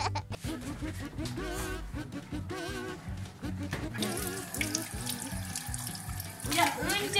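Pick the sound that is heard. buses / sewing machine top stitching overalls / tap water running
tap water running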